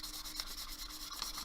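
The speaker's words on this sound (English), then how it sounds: "I'm going to take my 320 grit sandpaper" The edges of a cabochon pendant are sanded with 320 grit sandpaper in a steady, close, dry rubbing hiss with rhythmic back-and-forth strokes.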